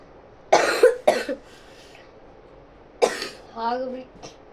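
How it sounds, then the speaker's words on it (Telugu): A few sharp, close coughs in two short bursts separated by a pause, followed by a brief murmur from the same voice. "జర కాఫ్ వచ్చింది అంతే"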